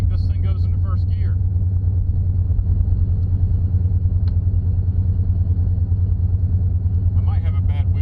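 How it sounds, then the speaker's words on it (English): A 2006 GMC Envoy driving along, with a loud, steady low rumble of road and wheel-bearing or tire noise filling the cabin and a voice talking briefly at the start and end. "I might have a bad wheel bearing on this thing. Either that or a bad tire. Sounds nasty."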